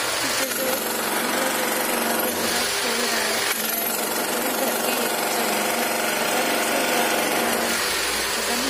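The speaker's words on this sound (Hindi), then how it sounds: "वो ड्रिलर मशीन से" A drill machine breaking through a wall inside a house, a loud, continuous harsh hammering buzz that fills the room, with a couple of brief shifts in pitch and load.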